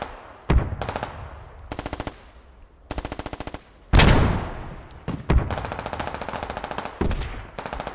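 Gunfire in the military shooter game Squad, with rapid machine-gun bursts in repeated rhythmic strings and heavy booming tank shots landing in between, loud and close with no talking.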